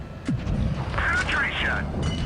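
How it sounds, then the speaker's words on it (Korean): Tank cannon shots in World of Tanks Blitz, a Progetto 65 firing a rapid burst, sharp booming cracks over in-game rumble and mechanical noise, with a whistling sweep mid-clip. "두 발, 네, 세 발까지 쏘고 빠집니다"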